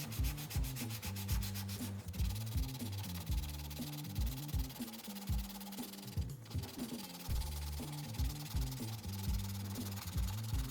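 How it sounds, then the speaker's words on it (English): A wooden pen coated with a dried CA finish is sanded in repeated rasping strokes, close and steady, with brief pauses between passes and no talking. "After the CA dries, sand the surface of the finish evenly before wet sanding."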